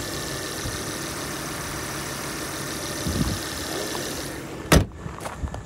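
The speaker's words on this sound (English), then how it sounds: "This five-cylinder motor is pretty bulletproof." A 2010 Volvo S40 with a manual transmission and five-cylinder engine idles steadily, a low continuous hum close by, followed by a sharp brief knock or clunk near the end.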